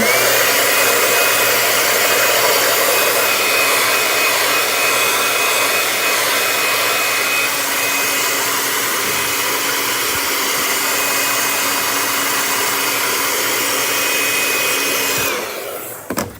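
A hair dryer blows a loud, steady roar close by for about fifteen seconds while a freshly stencilled t-shirt is dried, then switches off with a brief clatter at the end.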